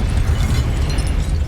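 Incendio fire spell cast in the video game Hogwarts Legacy, a dense, continuous roaring blast of flame that stays loud and even for its whole short burst.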